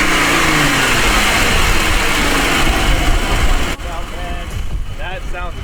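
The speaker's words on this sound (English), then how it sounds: "we're gonna let y'all guys hear the loudness of this cold air intake on this" A Jeep fitted with an aftermarket cold air intake revs hard outdoors in hot Texas weather. The engine gives a loud, sustained roar that eases off near the end, with brief voices faintly underneath.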